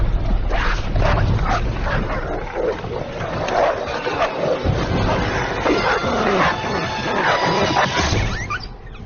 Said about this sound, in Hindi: इन जंगली कुत्तों के बारे में हम क्यों बात कर रहे हैं?